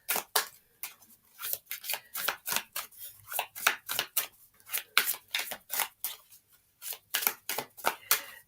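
A deck of cards being shuffled by hand, with a run of sharp riffling bursts in an uneven rhythm, close and fairly quiet, with no speech.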